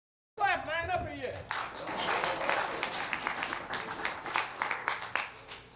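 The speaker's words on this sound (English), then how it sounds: "Clap, man, up in here." Comedy club audience clapping after a comedian's prompt, scattered claps swelling into a lively round of applause with sharp individual hits, while a voice speaks over the start.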